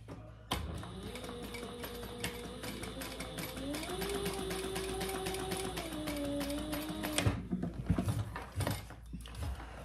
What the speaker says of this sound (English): we will stitch just underneath that second card slot